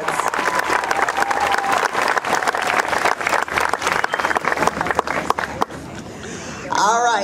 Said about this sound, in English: One more round of applause for these great kids.